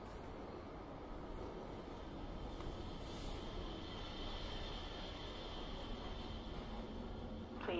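Train ride in the video game Black Mesa: a steady, even rumble and hiss of a rail car in motion, continuous and unchanging throughout with no voices.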